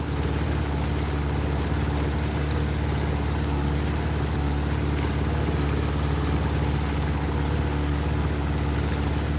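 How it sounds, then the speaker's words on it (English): Boat engine idling steadily on a river, a loud continuous low drone with constant rumble, close and alone with no voices. "So I'll turn this engine revs down because I can't hear myself think."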